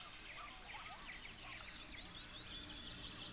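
Birds chirp as ambient sound in the city-building game Cities: Skylines near a lakefront, with faint, busy twittering calls layered over a steady low background hum, no voices.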